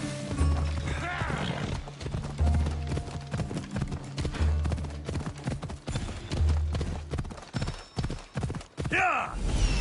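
Horse hooves galloping in a video game, a steady rhythmic clip-clop running throughout, close and fairly loud, with a brief whinny near the end and some game sounds layered over it.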